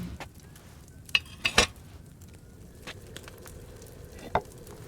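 A potion simmers in a cauldron in Kingdom Come: Deliverance II, a quiet low bubbling bed broken by a few sharp clinks and stirring knocks of the vessel.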